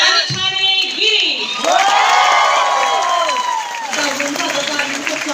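An audience at a company welcome event gives a loud, sustained round of applause, with cheering, whoops and shouts mixed in over a host's voice.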